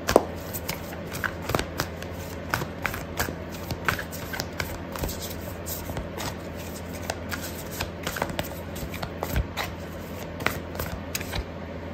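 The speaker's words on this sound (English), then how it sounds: "so I'm gonna pull out an oracle card for you," Oracle cards are shuffled by hand in a long run of soft riffling and flicking, close and fairly quiet, with a few sharper snaps as cards are handled.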